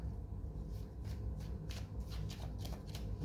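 A deck of tarot cards being shuffled by hand close by, a steady run of soft papery riffles and rustling bursts, with no one talking.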